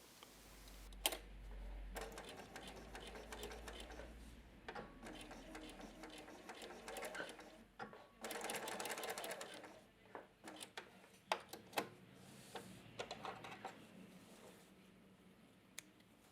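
A sewing machine stitches down the seam allowance of a welt pocket, rapid mechanical ticking and whirring in uneven bursts with brief pauses, close and steady, with no talk.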